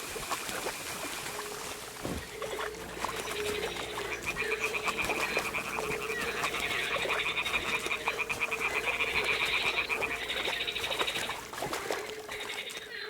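Toads croak in Kingdom Come: Deliverance II. A steady chorus of rasping, repeated croaks plays over soft trickling ambience, swelling louder in the middle and then easing off.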